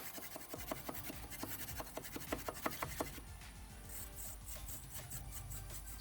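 Pipe cleaner scrubbing inside the intake passage of a Toyota Prius, a close, rhythmic rasping and rubbing with repeated short scraping strokes, fairly quiet, with no talk.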